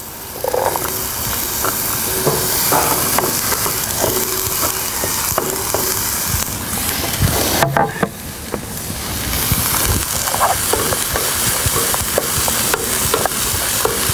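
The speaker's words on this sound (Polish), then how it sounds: "No i wrzucamy kurki." Chanterelle mushrooms tossed into a hot pan for a sauce, cooked over a grill, give a steady close sizzle and hiss with scraping stir noises throughout, without speech.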